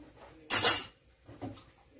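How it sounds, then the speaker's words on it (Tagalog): Plates and cutlery clattering during dishwashing, one loud sharp crash of crockery followed by a softer clink a moment later, close and without talk. "maghuhugas ka ng plato"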